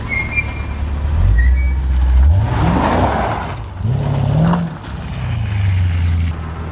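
Mercedes CL500 accelerating hard with stability control switched off, a deep engine note that climbs in pitch through two rising sweeps with a gear change between them, loud and close, mixed with rushing wind noise.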